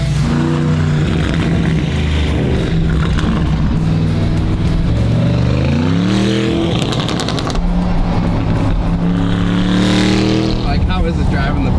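A modified Bentley with nitrous roars loudly throughout, its engine note climbing and falling as it revs under acceleration, with a constant road and wind roar and a brief rattling burst midway.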